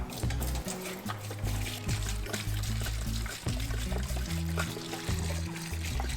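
Evapo-Rust rust-remover liquid pours from a jug into a parts-cleaning tank in a garage, a steady, close glugging flow with deep resonant gurgles that continues for several seconds.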